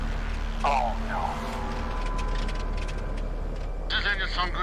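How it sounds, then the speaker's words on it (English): Small aircraft engine droning steadily in flight, a constant low hum filling the cabin while people talk over it. "Does this engine sound good to you?"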